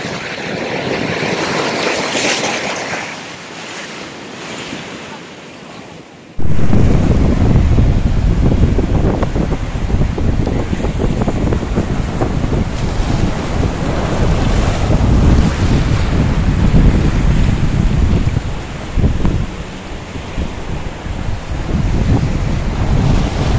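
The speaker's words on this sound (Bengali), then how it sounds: "কি বড় বড় ঢেউগুলো দেখ।" Large ocean waves crash against the rocks at Anjuna beach in Goa, a loud, continuous roar of surf with heavy wind buffeting the microphone, swelling sharply after a quieter opening.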